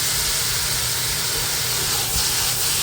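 Washed bitter gourd pieces hitting a hot pan for a Maharashtrian karela bhaji, giving a steady, loud, broad hiss of sizzling that holds constant throughout with a slight swell near the end and no voices.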